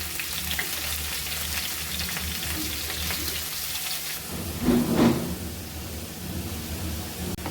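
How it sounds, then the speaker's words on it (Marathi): Loud, even sizzle of hot oil frying on low heat, swelling briefly as dill greens are dropped in a little at a time, then settling back to a constant crackle. "कमी गॅस करून इथे थोडी थोडी करून भाजी टाकून घ्यायची"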